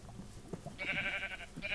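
A sheep in Minecraft bleats twice in quick succession, a wavering nasal call over a soft game background, with no talking.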